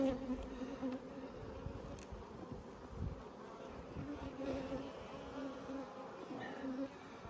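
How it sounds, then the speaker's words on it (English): Honeybees swarm around an opened brood box during a spring hive inspection, producing a steady, close, dense buzzing hum that fills the whole stretch without pause or talk. "A bit flighty, these bees."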